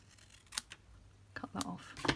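Scissors cutting card while making a handmade stamped thank-you card, a few quiet snips and crisp rustles close by, faint and brief.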